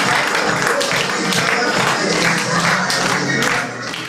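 An elderly audience at a senior citizens' day amateur concert breaks into loud, sustained group applause, dense clapping with a few cheers, filling the hall before tapering off at the end.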